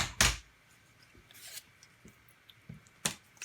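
Scissors snip through card paper at close range, a few crisp separate cuts with short rustling between them in an otherwise quiet room.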